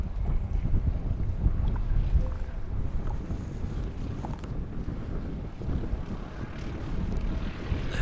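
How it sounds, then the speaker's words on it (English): Strong wind sweeps across Christchurch Airport in New Zealand and sets a flagpole vibrating: a steady, loud, rumbling buffet of gusts close to the microphone, continuous throughout with no voices. "Full vibration mode on the flagpole this afternoon. Good indication that the wind's picking up."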